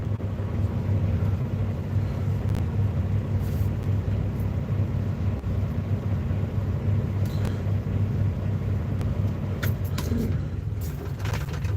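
A truck engine idling steadily just before it is switched off, a constant low rumble with a faint hum, close and unbroken, with occasional light clicks and rattles from the cab.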